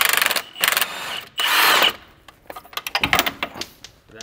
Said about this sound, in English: Impact gun makes that a lot easier